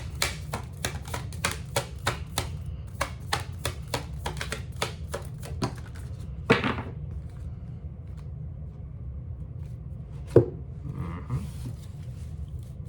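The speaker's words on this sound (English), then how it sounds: "let's pull some oracle cards" Oracle cards are shuffled and drawn, giving a quick run of crisp, evenly spaced card flicks up close, then a couple of isolated snaps and soft rustles over quiet room tone.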